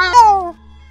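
A cat yowls from outside, a single short rising-then-falling cry lasting about half a second against a quiet low hum, used as a sound effect in a Thai ghost story.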